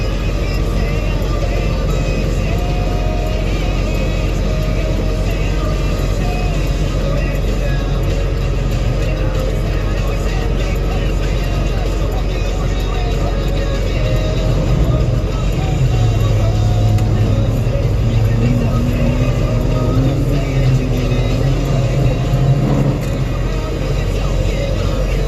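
A dump truck engine drones steadily while driving on the road near a truck stop in Gordonsville, Virginia, a loud, constant low rumble with road noise and a faint shifting tone partway through, with no talking.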